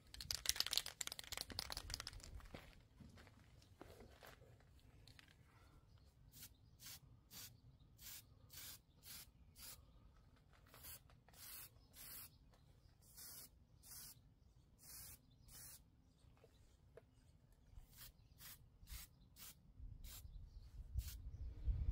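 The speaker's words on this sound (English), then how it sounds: "We're gonna go ahead and get some weld through primer on here." An aerosol can sprays weld-through primer onto a rusted truck cab corner in a garage, a hissing burst at the start followed by a long run of short, evenly spaced spray pulses, close and fairly quiet.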